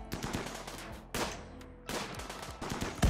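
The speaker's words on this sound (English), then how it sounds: "Dweeb is getting shot at" Loud game gunfire from a RimWorld raid, with shots aimed at a colonist. Dense, rapid bursts of machine-gun-like fire come in three waves, separated by brief, quieter gaps.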